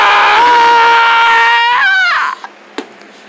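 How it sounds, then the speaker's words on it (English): A loud, sustained human scream held high and steady for nearly two seconds, then wavering and breaking off, followed by quiet and a couple of faint knocks. "I feel like screaming to where the whole neighborhood can hear me"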